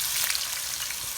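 Potato fingers frying in hot ghee in a wok give a steady, dense sizzle with fine crackling, close and continuous throughout.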